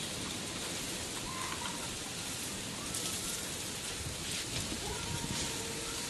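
Steady rainfall during a stormy day in Nepal, a dense even hiss of drops on surfaces with no break, moderately quiet and unaccompanied by speech.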